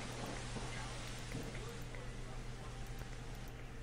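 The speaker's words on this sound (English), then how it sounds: "Oh, now it's raining." Steady rain in the video game Dead Maze, a faint, constant hiss of falling drops with a low hum underneath, unbroken throughout and with no voices.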